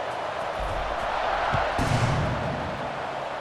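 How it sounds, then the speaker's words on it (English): Stadium crowd in EA Sports College Football 26, a broad sustained roar of cheering fans at a football game, with a thud partway through. "this crowd is feeling themselves after that last drive"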